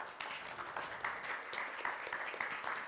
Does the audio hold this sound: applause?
yes